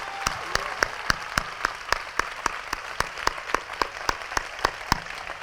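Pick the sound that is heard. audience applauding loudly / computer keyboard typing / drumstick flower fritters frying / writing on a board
audience applauding loudly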